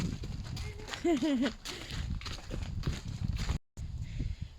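Horses' hooves clip-clop at a walking pace on a hard surface, with a horse's brief whinny and a person talking over it.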